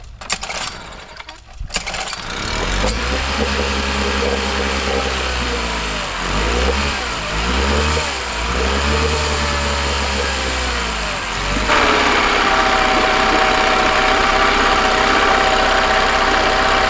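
An outboard motor, with dirty oil, cranks and catches after a couple of seconds, then settles into a steady close idle, with a few revs rising and falling before it evens out again.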